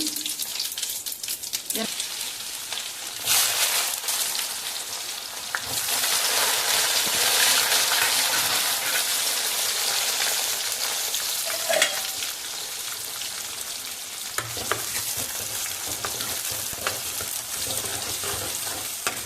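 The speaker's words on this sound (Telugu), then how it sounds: "పప్పులోకి పోపు పెట్టుకుందామండి." A steady, loud sizzle of mustard seeds, cumin and dried red chillies frying in hot oil for tempering dal, crackling and hissing continuously with a few sharp pops, no voices.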